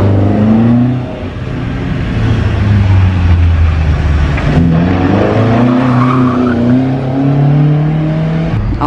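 A historic rally car at a HERO Challenge event revving hard through a handbrake turn, the engine droning loud and close while the tires skid and squeal across the surface.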